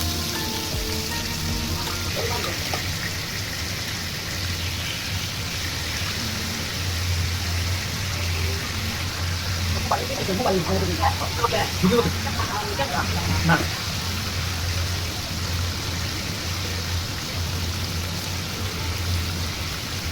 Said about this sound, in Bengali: মাছগুলো ভাজা হচ্ছে, আমরা এক পাশ হয়ে গেলে আরেক পাশ ওলট পালট করে নেব।